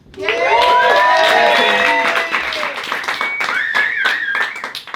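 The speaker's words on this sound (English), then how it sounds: "could I trouble you for another one, please?" A Halloween comedy show audience breaks into clapping and cheering, loud and close, with shouts and whoops rising over the applause before it thins into scattered claps.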